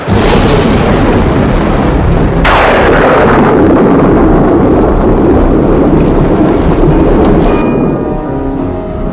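Loud, continuous thunder rumbles and cracks through a violent freak storm. A sharp crash lands partway through, followed by sustained roaring.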